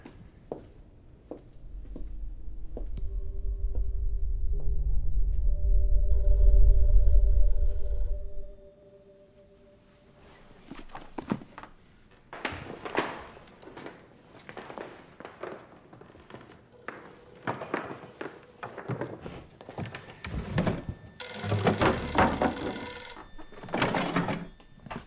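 A telephone in a Swedish children's Christmas calendar show rings with repeated electronic tones after a loud low rumble, alongside scattered footsteps, knocks and other movement sounds.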